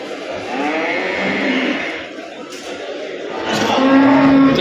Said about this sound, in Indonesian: Itulah sapi simental asli.